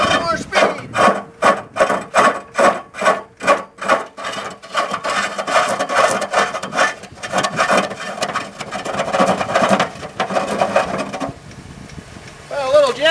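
A gouge bites into a spinning wood block on a 150hp woodturning lathe, first in loud rhythmic rasping pulses, then settling into a continuous scraping roar before fading.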